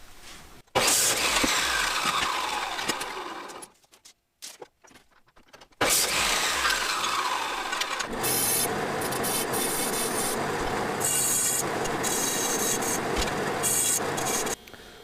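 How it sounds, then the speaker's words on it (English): Electrical conduit pipe, in 10-foot sticks of 3/4 and 1/2 inch, gets cut in half with a loud, close, continuous rasping cut. Two long cutting passes are split by a brief quiet pause partway through. "I'm going to cut them in half."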